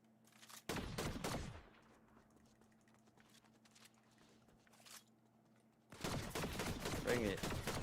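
Bursts of rapid video game gunfire from an Overwatch-style team shooter, a loud volley early, then quieter scattered shots under a steady hum, and a dense stretch of firing toward the end; a voice speaks over it briefly.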